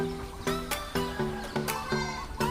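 Several goats bleat in a row on a farm, with young kids among them, each cry a wavering nasal call repeating every half second or so at close range, loud and clear without talk.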